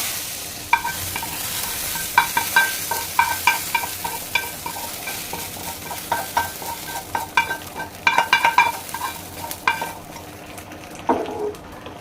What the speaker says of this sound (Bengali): তো আর আমি এখন এই ফোড়নটা আমি ঢেলে দিলাম।